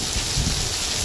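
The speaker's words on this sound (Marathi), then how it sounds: "पाऊस तर फुल पडला रे एकदम नंबर 1 पाऊस पडला" Heavy rain pours down in a dense, steady hiss with no breaks, a brief, constant wash of falling water.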